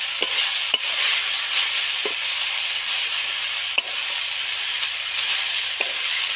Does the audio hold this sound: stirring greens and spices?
yes